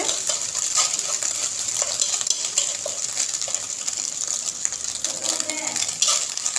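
Steady sizzling of egg pieces frying in oil with soft stirring scrapes, continuous and close, no talking.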